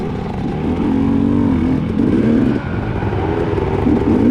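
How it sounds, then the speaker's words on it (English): New KTM dirt bikes in a hare scramble race: a loud, continuous engine drone with slight rises and dips in revs, close and steady throughout, with no voices. "Chris and Mike both have brand new KTMs and they look very similar"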